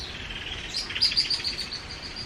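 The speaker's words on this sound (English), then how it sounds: "Love the sound of the birds." Birds chirp and tweet in the countryside, heard from a passing vehicle as bright repeated calls over a steady low road rumble.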